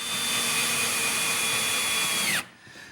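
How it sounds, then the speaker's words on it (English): Power drill driving screws into plywood while building a kitchen island: a loud continuous whirring motor run lasting over two seconds, its pitch dropping as it winds down and stops abruptly. "And I'll tip it up and drive some screws."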